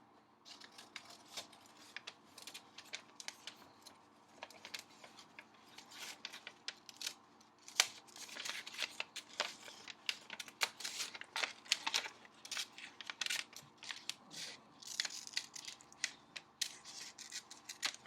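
Scissors cut out a paper face in a quiet room. Many faint snips and rustles come in an uneven rhythm, with brief pauses between bursts of cutting.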